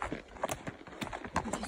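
A sure-footed horse walking on an extremely uneven path, with a close, steady clip-clop of hooves striking several times a second, plus some crunching underfoot.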